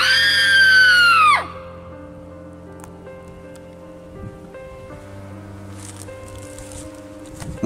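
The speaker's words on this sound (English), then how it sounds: "Let's see if Randy can hear a scream." A person screams at a distance outdoors, a long wavering high-pitched cry rising and falling over about a second and a half, then dropping away into quiet outdoor ambience.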